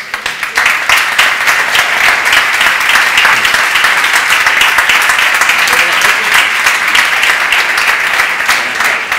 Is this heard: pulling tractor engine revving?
no